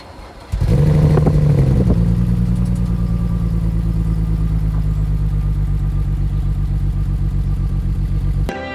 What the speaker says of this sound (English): So no revs, just a cold start.